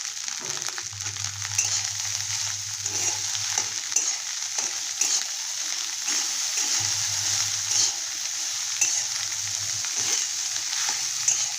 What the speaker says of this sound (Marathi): हे मस्त असं भाजून द्यायचं आहे